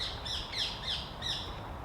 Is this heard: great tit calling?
yes